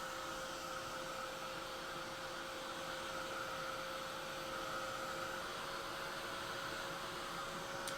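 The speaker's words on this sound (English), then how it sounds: "I'm going to grab my heat tool and just start heating this one" A heat tool drying an ink-colored card panel, blowing a steady, close whooshing hiss with a constant motor whine that runs unbroken throughout.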